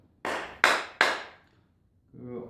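Three sharp, evenly spaced metallic taps of a hammer striking the iron blade of a high-speed steel Japanese hand plane, each ringing briefly, followed by a moment of low talk.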